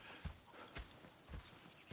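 Horse hooves clip-clop at a walking pace in Red Dead Redemption, a faint, steady run of soft thuds with no talk.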